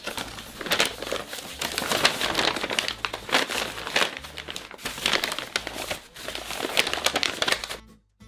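A paper lunch bag crinkles and rustles steadily as it is handled and carefully turned over, close up, in dense crackling bursts that stop abruptly at the end.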